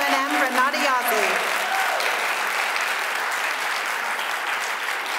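An audience at the Miss Indian UNM pageant breaks into applause for the new titleholder, a steady wash of clapping and some cheering that begins under the tail of an announcer's voice and then continues alone.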